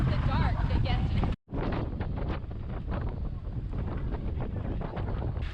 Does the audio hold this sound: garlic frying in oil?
no